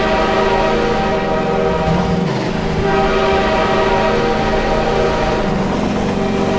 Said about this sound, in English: The train is gonna come, isn't it?